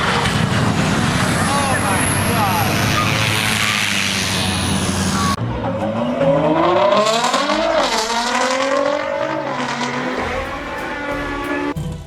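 A tuned Nissan GT-R engine roars and revs loudly, climbing and falling in pitch through repeated throttle pulls after a sharp cut midway, its strained exhaust note running almost continuously.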